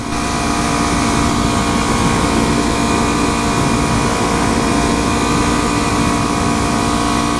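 Kawasaki Ninja motorcycle engine pulling from low revs on a test ride after a Vortex rear sprocket and D.I.D. chain install, a loud, steady drone with wind rush throughout.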